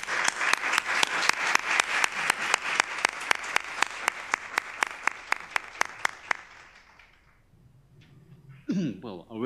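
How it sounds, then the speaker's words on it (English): Audience welcoming a speaker to a university lecture gives a dense round of applause with steady rhythmic clapping for about seven seconds. It fades out, then a voice starts speaking. "we should offer him a warm welcome to our university with a round of applause"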